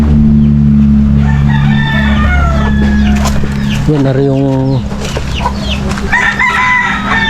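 Chickens cluck and a rooster crows nearby in a backyard poultry pen, with a steady low hum underneath while a person talks over the birds.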